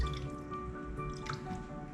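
A small amount of water poured into a sweet tofu sauce, making soft dripping and squishing liquid sounds at close range, fairly quiet and continuous over two seconds.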